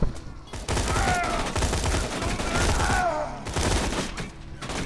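Loud, near-continuous gunfire from the video game Borderlands 2: rapid overlapping shots and bursts that fill the whole stretch.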